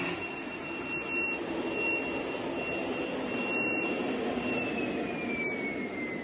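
A vortex vacuum pump runs steadily under a negative pressure test during factory quality control, giving a continuous whooshing roar with a high whine that slowly drifts downward in pitch.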